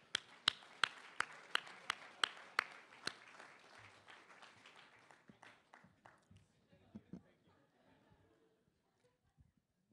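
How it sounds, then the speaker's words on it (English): Audience applause at a National Press Club spelling bee for Rachel Maddow and Al Sharpton, opening with a run of sharp, regular claps that soften into scattered, fading clapping. "I want you guys to give a big round of applause for Rachel Maddow and Al Sharpton"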